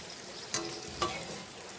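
Ripe mango luchi fries in hot oil in a kadai, giving a faint, steady sizzle with two sharp clicks from a spoon or turning, quiet and close, with no talking.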